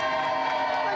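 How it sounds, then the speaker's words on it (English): A crowd cheers and applauds loudly for an undefeated champion in a steady, continuous roar that fills the whole moment. "Round of applause, please, for our undefeated champion, Golden Bomberman!"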